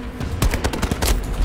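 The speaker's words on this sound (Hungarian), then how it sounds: "Én azt hátulból hallottam a lövést" Rapid bursts of automatic gunfire crack out in Battlefield 2042, several loud, close shots clustered in quick, uneven volleys.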